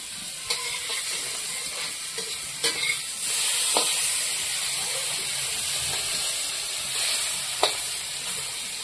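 Dried fish frying in a pan during village cooking in India, a continuous hissing sizzle with a few sharp utensil clicks and scrapes, close and steady with no talk.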